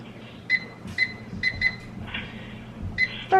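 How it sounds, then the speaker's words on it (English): A kitchen timer being set, with several short, sharp electronic beeps at uneven intervals as buttons are pressed, close and clear against a quiet kitchen background. "I'm going to set the timer for 4 minutes."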